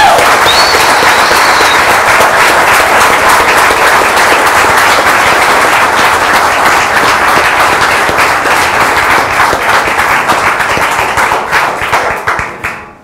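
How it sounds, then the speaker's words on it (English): Campus audience gives a loud, prolonged round of applause with cheering crowd noise, sustained for many seconds before tapering off at the end. "a really big hand of applause for running and then for being here"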